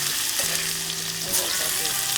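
Potato pieces fry in hot oil in a pan, the first step of a Filipino chicken curry, giving a steady close sizzle with faint stirring and no voices.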